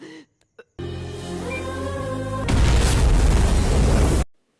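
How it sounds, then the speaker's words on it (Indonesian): A low rumble builds, then a gas-filled oven explodes in a loud, sustained blast of noise that roars for over a second before cutting off abruptly. "oven yang dipenuhi gas pun langsung meledak"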